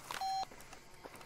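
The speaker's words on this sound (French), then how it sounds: "Téléphone." A short in-game telephone beep from the video game Far Cry 2, a bright electronic tone lasting a fraction of a second, followed by faint quiet game ambience.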